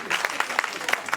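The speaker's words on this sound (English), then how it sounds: "clap for that" Brief patter of applause from a town hall forum audience, scattered claps at moderate loudness with a busy, slightly uneven rhythm.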